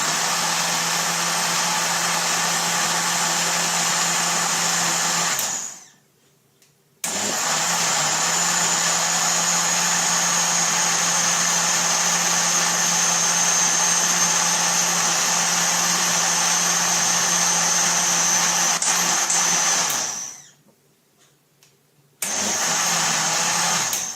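An electric grinder whirs loudly and steadily while grinding coconut for oil, a constant high motor drone that cuts out twice for about a second before starting again.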